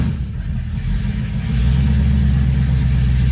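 1968 Mercury Cougar with a mildly warmed-over 390 V8 running, a loud, steady low engine rumble that thickens slightly partway through, heard up close with no talk.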